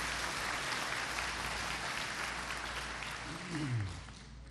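A church congregation claps in steady, dense applause that fills the room for several seconds before easing off, with a faint voice underneath.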